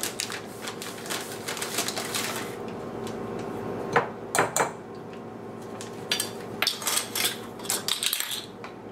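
Sugar and pancake mix are stirred together in a bowl with a utensil for a crockpot peach cobbler crust, giving repeated light scraping and clinking against the bowl over a steady background hum.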